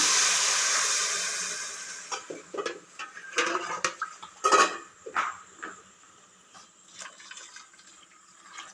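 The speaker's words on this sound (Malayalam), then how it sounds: "ഇത് നമുക്ക് ഇളക്കി നന്നായിട്ട് തിളച്ച് വരുന്നുണ്ട്" Metal clinks and scrapes of a spoon stirring boiling rice in a pot, irregular and close, following an opening rush of water or steam noise.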